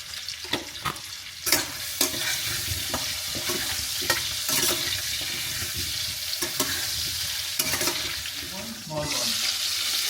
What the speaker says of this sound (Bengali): হলুদ আর একটু লবণ দিয়ে আলুটা ভেজে নেবে